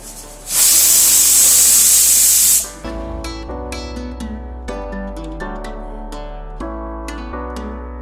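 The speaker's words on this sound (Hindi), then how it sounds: "तो यहाँ पे कुकर की 1 विजिल आने के बाद मैंने गैस बंद कर दिया है।" A pressure cooker cooking pulao on a gas stove lets out one loud, steady hissing whistle for about two seconds, then goes quiet while soft music plays underneath.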